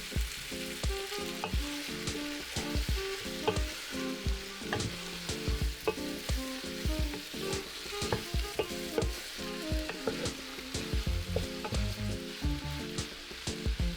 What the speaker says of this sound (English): So you're gonna keep sauteing until you get this color right here